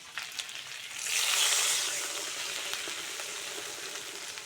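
Water poured into a hot pan of fried green banana pieces, the oil bursting into a loud rising sizzle after a second and then settling into a steady bubbling hiss; no voices.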